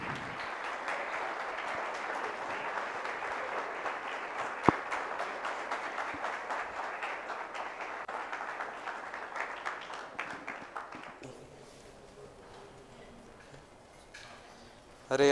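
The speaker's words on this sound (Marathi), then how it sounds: "जोरदार टाळ्या झाल्या पाहिजेत" A crowd claps at the Super-X 6.0 prize ceremony by Core2web. The applause is sustained and fairly loud for about eleven seconds with one sharp knock early on, then thins out and fades into quieter room sounds before a sudden noise at the very end.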